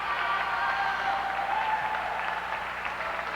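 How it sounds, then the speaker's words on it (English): Spectators at the 1997 IHSA girls tennis state finals applaud in a steady, dense patter of clapping that carries on without a break and fades slightly at the end. "the crowd, which has been somewhat anesthetized, is starting to do a little applause"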